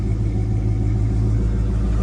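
A 1978 Ford Bronco Ranger XLT 4x4 engine runs at a steady idle, a loud, close, low rumble that holds even throughout with no talking.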